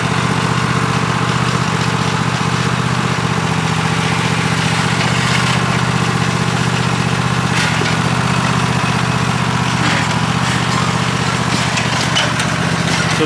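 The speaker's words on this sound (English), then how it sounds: "I don't know if you can hear me with the tractor running" A tractor engine runs at a steady idle-like drone on a small farm property while loading material for a compost heap, loud and continuous throughout with no pauses.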